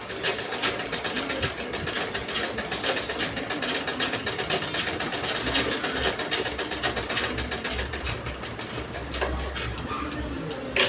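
A freshly threaded sewing machine stitching: a fast, continuous mechanical rattle and whir at a steady pace, close and fairly loud, with no voices over it.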